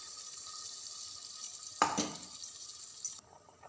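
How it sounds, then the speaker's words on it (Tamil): Ground green masala poured into a boiling chicken curry, with steady sizzling and bubbling that jumps into a louder splash and burst of frying midway, then settles back to a lower simmer. "இந்த மசாலா அரைச்சோம் இல்லையா, அதை ஊற்றுங்க"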